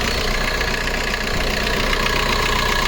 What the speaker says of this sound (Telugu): చూడండి ఇంజన్ సౌండ్ కూడా.